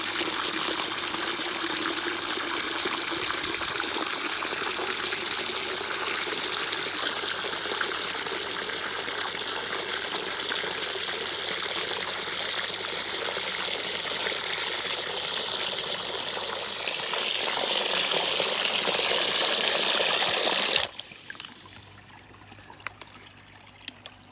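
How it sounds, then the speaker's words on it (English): A salt and bicarbonate mix in 10 litres of water pours into a garden pond, a steady rushing gush that swells louder near the end before cutting off abruptly to faint drips. "Mix it to 10 litres of water, give it a good stir up, and then we're dropping that in."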